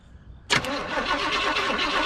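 A crate 350 Chevy V8 in a 1972 Chevrolet C/10, unrun for years, bursts into sound after a quiet moment with a sharp start, then holds a loud, steady, rough rumble close by.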